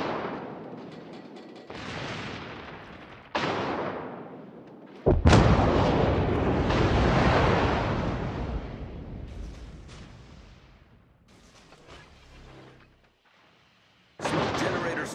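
Warship guns firing at an enemy ship in a naval destroyer video game, a series of loud booming salvos, one especially sharp blast near the middle followed by rolling rumble, with spoken game announcements mixed in.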